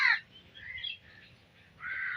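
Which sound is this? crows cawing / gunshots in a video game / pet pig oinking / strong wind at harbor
crows cawing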